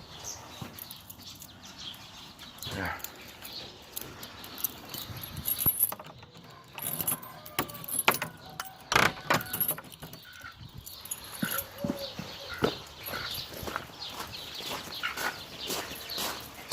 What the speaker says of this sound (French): La clé du garage qui me sert à ouvrir la pompe et le reste.